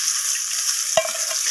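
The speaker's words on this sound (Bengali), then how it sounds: "মাছগুলোকে আমি দু পিস লালচে করে একটু ভেজে নেব" Pieces of rohu fish fry in hot oil in a pan, a steady close sizzle with a brief stirring clatter in the middle, and no talk.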